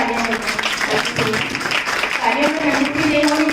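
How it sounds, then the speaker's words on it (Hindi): Applause from an audience at a 2021 welcome ceremony, steady clapping throughout, with a voice speaking over the crowd. "उनके लिए जोरदार तालियां"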